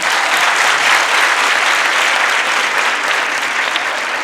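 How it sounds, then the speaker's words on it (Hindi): Loud, steady applause from an audience at a national poetry gathering (kavi sammelan) in Delhi, a dense wash of clapping lasting the whole stretch with no voices over it. "तालियां बजा दीजिए।"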